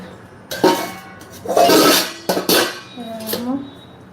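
Metal pots and dishes clank and clatter in several bursts of handling, close by, with faint voices in the background.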